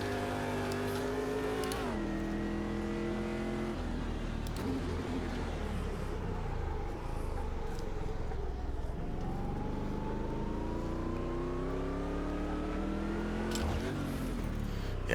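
A Stadium Super Truck racing engine in the video game Automobilista 2 at Long Beach, loud and continuous, revving up through the gears and dropping on downshifts as it runs its final lap.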